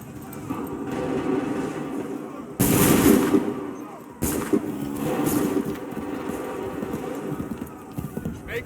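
Musket volleys crack out in the Assassin's Creed III game. A sharp, loud burst is followed by a second one, with horse hooves clopping and the noise of battle continuing underneath.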